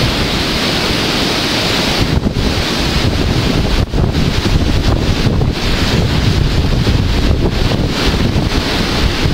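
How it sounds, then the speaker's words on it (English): Powerful hurricane wind roars without pause, a loud dense rush buffeting the microphone with gusting surges throughout. "the wind is just really powerful, and hurricane has been upon us for a while now"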